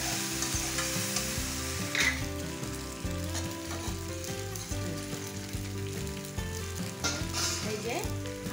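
Pasta is stir-fried in a pan, with a steady sizzle and the repeated scrape and clatter of a spatula stirring throughout, close and unbroken, with no talking.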